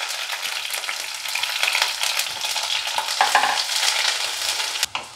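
Onions fry with mustard seeds in a wok, giving a steady, close sizzle with stirring scrapes and a sharp clack near the end, with no voices.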